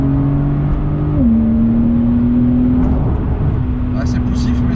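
Porsche 911 Carrera S (992) with its 3-litre flat-six and PDK gearbox, revving steadily with a loud, close engine drone whose pitch dips once during a downshift, then holds; faint talk sits underneath.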